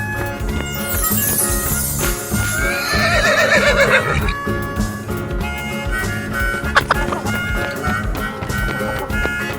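A horse neighs loudly in a long, descending whinny over busy background music, followed by a brief clip-clop of hooves.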